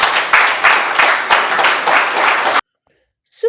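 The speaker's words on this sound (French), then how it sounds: "nous devons applaudir pour son excellence Paul Biya" An audience applauds at a public event in Cameroon, a loud dense round of clapping with rhythmic surges that stops abruptly, followed by silence and a brief faint sound.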